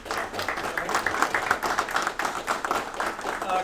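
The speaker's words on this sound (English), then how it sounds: "Please give him a hand of applause and introduce him." A conference audience claps for a speaker who has just been introduced, a brief burst of dense, even applause close to the room microphone.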